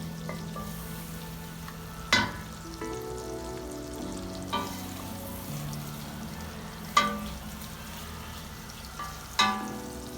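Onion browns in butter in a pan with a soft, steady sizzle, and a spoon scrapes across the pan in occasional single strokes about every two seconds, close up, with no voices.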